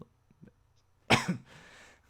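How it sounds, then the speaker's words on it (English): A single sharp, close cough bursts out after a couple of faint murmurs, trailing off into a soft breathy tail. "I'm sorry for coughing, by the way"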